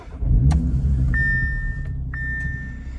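A 2018 Audi RS3 sport sedan cranks and fires up, its engine catching with a loud rumble that settles into a steady low idle.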